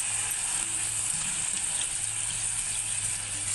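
Cleaned fish pieces sizzle as they are dropped into a pan of mango fish curry, a steady, close hiss and crackle that carries on without a break.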